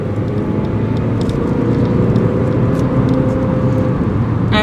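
Steady interior noise of a small car driving in the Swiss Alps, with a constant engine and road rumble, unbroken throughout, no talking.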